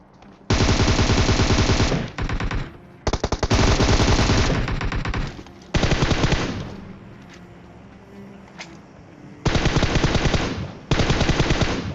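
Rapid automatic gunfire in a battle royale video game fight, loud sustained bursts separated by brief lulls, with scattered single shots and distant firing in between.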